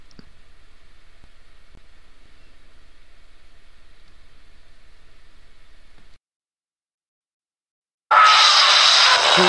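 A GV1 ghost box app generates white noise, a faint pulsing hiss that drops out, then bursts in loud and harsh near the end.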